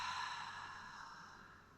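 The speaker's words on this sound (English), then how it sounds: "Exhale out through your mouth." A long, steady breath exhaled out through the mouth during a yoga relaxation exercise, a soft airy sigh that fades gradually over nearly two seconds, close and alone with no talking.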